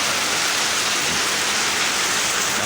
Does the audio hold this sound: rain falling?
yes